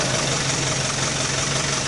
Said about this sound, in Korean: 지금 골목이라서 트럭이 좀 지나가고 합니다만